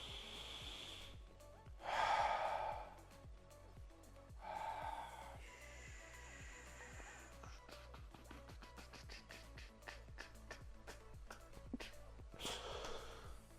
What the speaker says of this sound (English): watch how much more I can actually exhale when I'm done exhaling